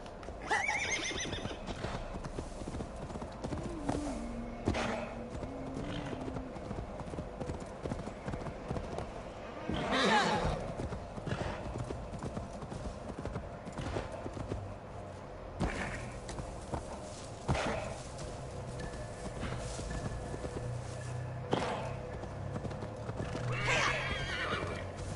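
Horse neighing and hoof clip-clops in Assassin's Creed Valhalla, a PS5 game set in Eurvicscire, with steady galloping hooves under game ambience and whinnies near 10 and 24 seconds, plus occasional voices.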